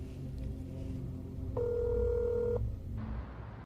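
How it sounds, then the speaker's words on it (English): A telephone rings in an opening trailer, one electronic ring tone held for about a second over a low ambient music bed. "Phone call again."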